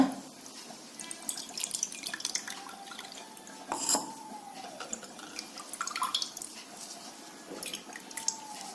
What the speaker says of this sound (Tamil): இப்போ ஃபில்டர் பண்ணிடுவோம்ப்பா